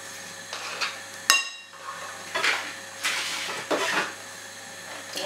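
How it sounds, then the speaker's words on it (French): Mascarpone mixed by hand in a bowl without a mixer, a series of scraping, clinking strokes of a utensil against the bowl, several spaced bursts over a quiet background. "Et on va continuer de bien mélanger."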